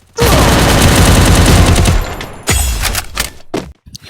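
A UMP gun in a shooting video game fires loud, close, rapid automatic bursts for about two seconds, then a few shorter bursts and single shots trail off into near silence.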